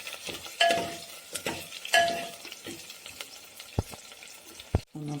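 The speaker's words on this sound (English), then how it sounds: "Garlic, onion, we should mix it." Garlic and onion being stirred in a pan for gatte ki sabji, with a light sizzle under repeated spoon strokes and metallic clinks against the pan, ending with a couple of sharper knocks.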